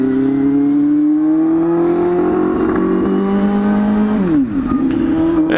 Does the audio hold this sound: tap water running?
no